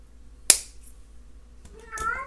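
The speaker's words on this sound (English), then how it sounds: "and that's my cat meowing." A sharp click, then a short cat meow near the end, in an otherwise quiet room.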